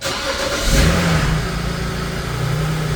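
A lowered BMW E93 with a plain exhaust revs up and settles into a steady mid-pitched run, close by, with no talking.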